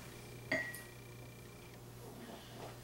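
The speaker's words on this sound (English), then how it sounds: "Break 2 eggs." An egg cracks against a wide-mouth pint glass jar: a single sharp glassy clink with a brief ringing tone, followed by quiet room hush.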